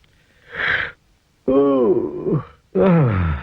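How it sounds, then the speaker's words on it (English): A breathy intake, then two long groaning yawns with falling pitch, performed by a voice in an exaggerated, cartoonish way as Mr. Forgetful from The Mr Men and Little Miss Show. "He yawned, stretched his arms"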